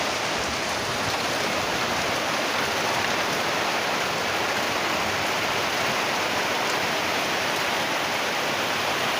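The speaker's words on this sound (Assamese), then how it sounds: "পুৰা বৰষুণ দি আছে।" Heavy rain pours steadily over a flooded field, a dense, continuous hiss of countless drops hitting water, loud and unbroken throughout with no voices.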